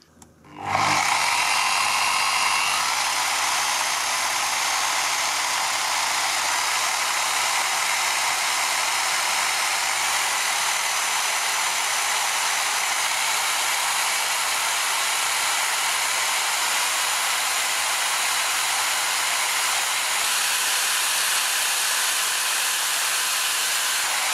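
A Parkside PWDS 920 A1 electric wall and ceiling sander gives a loud, steady motorized whine and rushing air, starting abruptly and running without pause at constant speed.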